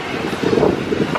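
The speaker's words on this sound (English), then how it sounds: "It's really windy out here, so it's making it hard." Steady wind gusting across an open outdoor pool area, a constant broadband rush with mild swells in strength throughout.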